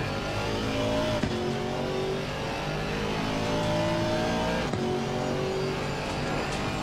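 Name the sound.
V8 engine of GT4 race car in Assetto Corsa Competizione video game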